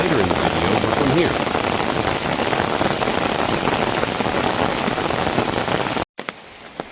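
Steady, heavy rain patters on surfaces nearby at a jungle resort in Ubud, Bali, a dense hiss that runs unbroken for several seconds before cutting off abruptly.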